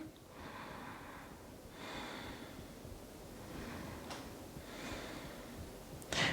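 Slow, deep breathing during a seated upper-body towel stretch, several soft, even breaths spaced a second or two apart, faint and close.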